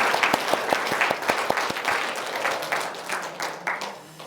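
A church congregation at a Sunday worship service applauds, with sharp, distinct claps at first that blend into a denser wash of clapping before tapering off.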